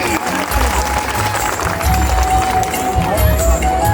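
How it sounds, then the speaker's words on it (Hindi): A large crowd at a school inauguration ceremony in Raigarh, India claps continuously in a thick, rumbling wave of applause, with murmuring voices mixed into the noise. "एक बार जोरदार ताली पूनम दीदी के लिए।"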